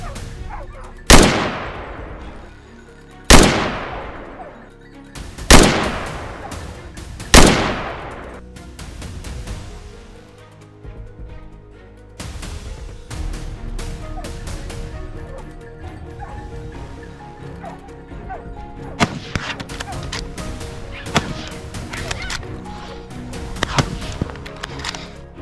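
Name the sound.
gunfire during wild boar hunt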